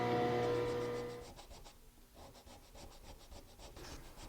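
A hand tool takes very light bevelling cuts along a hardwood tabletop edge, making soft rhythmic rasping strokes up close after a fading tonal ring at the start.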